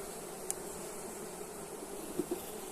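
Steady, close honeybee buzzing at open hive frames forms a dense hum throughout, with a few faint knocks and clicks from handling the frames.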